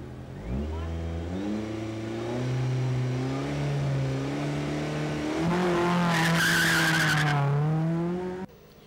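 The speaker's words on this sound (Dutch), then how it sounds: "Wij trokken met hem mee, tussen de gierende banden en de brullende motoren." Rally cars at the 38th Omloop van Vlaanderen in Roeselare scream past with screeching tyre squeal and roaring, revving engines, loud and continuous throughout, building to a sharper burst of skidding near the end before cutting off.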